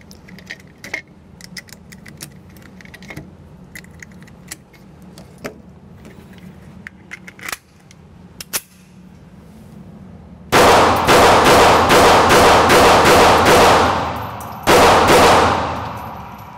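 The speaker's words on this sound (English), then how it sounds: "First 50 rounds through this pistol." A Ruger LCP MAX pocket pistol fires about ten sharp, loud rounds in quick succession, closing out its first 50 rounds, after a stretch of quiet handling clicks and clanks; a short pause splits the final shots.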